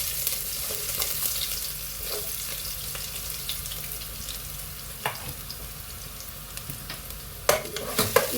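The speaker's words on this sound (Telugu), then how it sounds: "ఈ గార్లిక్ ఇవన్నీ వేసుకున్నాం, జింజర్ గార్లిక్ ఇవన్నీ" Ginger and garlic frying in hot oil for a Chinese chicken soup, a soft continuous sizzle with the scrape and clink of a spoon stirring, growing sharper and louder toward the end.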